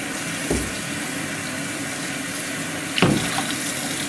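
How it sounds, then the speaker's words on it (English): Tap water runs steadily into a darkroom chemistry tray being rinsed in a sink, a constant splashing rush with a couple of louder sloshes as the tray shifts under the stream. "You can see there's still a lot of color coming out, so I'm going to rinse it again."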